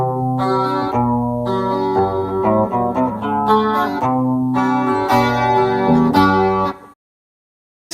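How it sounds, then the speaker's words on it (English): Electric guitar notes and chords run through a bootable chorus stomp box built on a SHARC audio module, a shimmering, doubled tone played steadily for about seven seconds before stopping abruptly into silence. "So here we have the bootable chorus stomp box"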